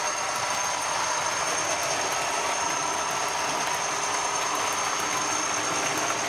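A model Class 40 locomotive pulling passenger coaches around a layout loop gives a steady, continuous mechanical whir and rattle, close and constant throughout with no voices.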